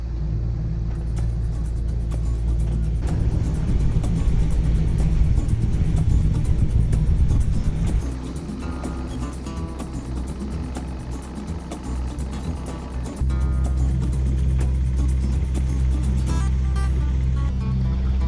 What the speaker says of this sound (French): Navigation moteur.